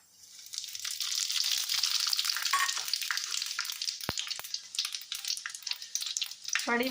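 Panch phoron and fennel seeds crackle in hot mustard oil in a kadai for mango pickle, a steady close sizzle that swells and holds, with a single metallic clink partway through.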